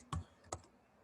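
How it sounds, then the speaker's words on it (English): Two sharp, close keystrokes on a computer keyboard, spaced about half a second apart against a quiet room. "so let me type Ggplot"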